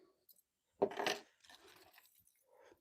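Keys jangle and clink in a short burst as someone rummages for them, with quieter metallic rattling afterward.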